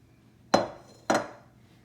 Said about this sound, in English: What I'm going to do is just scrape it into the prepared pan